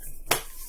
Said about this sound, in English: we always clap